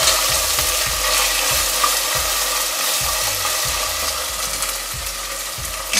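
Chopped onions and ten slit green chillies sizzle steadily in hot oil for egg biryani, a continuous close crackle with faint periodic scraping of a spatula stirring the pan throughout.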